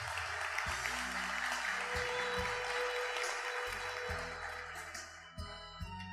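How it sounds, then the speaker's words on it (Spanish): Applause at a technical and technology graduation ceremony sounds faint and distant as a soft clapping wash, with a steady low musical tone pattern playing underneath. "El aplauso y reconocimiento es para él"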